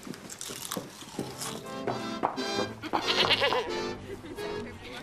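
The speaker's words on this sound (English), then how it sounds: "Why do we have a goat, miss?" A goat bleats repeatedly in a wavering, nasal series of calls, fairly close and clear, over a low indoor background with a few clicks.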